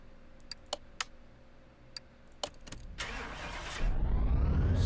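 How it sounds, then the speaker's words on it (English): A Ford Coupe with an upgraded supercharged engine in Car Mechanic Simulator: a few sharp clicks and ticks, then the engine cranks, catches and settles into a loud, steady run on a dyno, with no voices. "now let's test it on the dyno"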